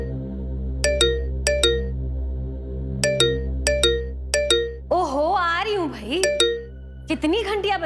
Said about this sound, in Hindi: कितनी घंटियां बजाओगे?